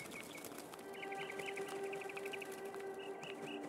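Gentle synthetic bird chirps in the video game Gris, short repeated trills over a steady ambient musical drone, faint and alone.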